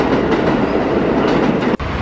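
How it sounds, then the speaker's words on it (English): A New York subway car heading uptown to Queens rumbles loud and steady with a clickety-clack of wheels on rails, dropping out for an instant near the end. "That young Metro car though, you know, going uptown to Queens."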